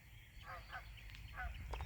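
A lone goose honks at a distance, several short nasal calls spread out over a dreary, faint outdoor background.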